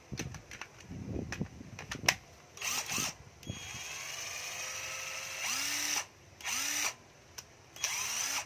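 A cordless drill and screwdriver run in short bursts, their whine rising and falling between clicks and handling taps, close and fairly loud, with no talk.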